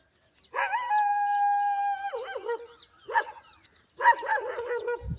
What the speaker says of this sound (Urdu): شاید میں دیکھ کے بھونکدا پیا